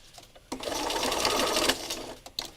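A sewing machine stitches through sticky painted fabric, a close steady whirring run of about a second with brief clicks before and after.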